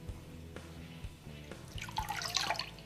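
A hydrographic-dipped part, covered in camo film, is worked by hand under water, giving soft sloshing and dripping that rises toward the end, close by with no talk.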